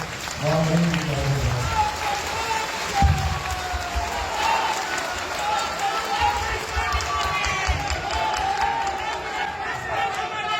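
An audience at a Bihar Asmita Diwas event marking Ram Vilas Paswan's birth anniversary applauds and cheers. The clapping and crowd noise hold steady throughout, with voices over it.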